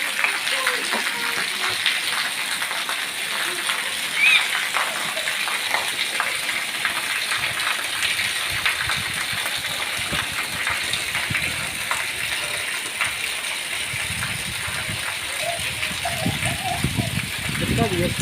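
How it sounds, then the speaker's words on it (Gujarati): Heavy rain pours down steadily in Mehsana, a dense continuous hiss and gush of water lasting throughout, with children and adults talking over it. "જોરદાર વરસાદ આવ્યો આમાં તો."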